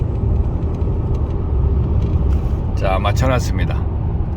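A car cruises at a steady 100 km/h on a highway, heard from inside as a constant low road and engine rumble, with someone speaking briefly over it near the end.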